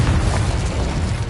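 An Incendio fire spell bursts in Hogwarts Legacy, giving a thick roaring whoosh of flame with a low booming body, loud and steady for about a second.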